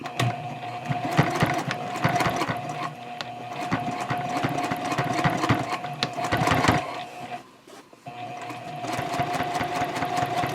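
A sewing machine stitches through several fabric layers of a tote bag at a 3.0 stitch length, running in uneven bursts with a brief pause, close and moderately loud.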